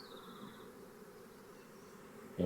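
Swarming honeybees fanning their wings with abdomens raised to spread Nasonov pheromone, giving a steady, close buzzing hum that runs throughout with no talk and ends in a short louder bump.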